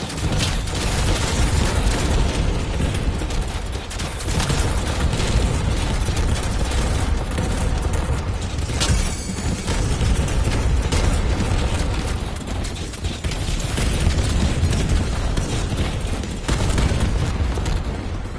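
Rapid, continuous bursts of fireworks-like explosions in a Call of Duty zombies game, dense and loud booms crackling without pause over about eighteen seconds.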